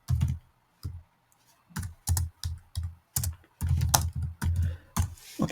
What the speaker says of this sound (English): Okay, so if we type